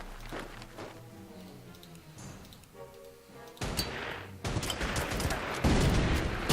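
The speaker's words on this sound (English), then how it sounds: "Artillery." Artillery fire in the WW2 strategy game Order of Battle: a series of heavy booming blasts builds in loudness, with dense rumbling explosions following one another closely toward the end.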